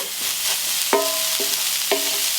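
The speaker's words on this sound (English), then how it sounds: "we're just going to fry this up here nice, get it cooked, nice and brown" Corned beef from a can frying in a pan, a steady broadband sizzle throughout with a few brief tonal clinks of utensil against the pan.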